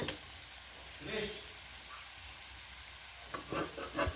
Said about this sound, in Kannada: ಆ ಚಬಲಿ ಚಬಲಿ ಸರಿ ರೋಸ್ಟ್ ಮಾಡ್ಕೊಂಬ